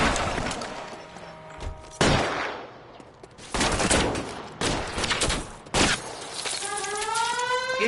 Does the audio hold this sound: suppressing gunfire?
yes